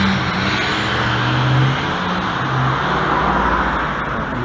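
A car with one headlight out drives past on a road at night, heard as a continuous rumbling road and engine noise with a gentle swell around the middle and no voices.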